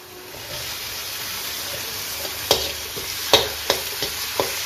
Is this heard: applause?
no